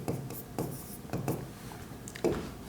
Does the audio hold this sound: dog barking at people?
no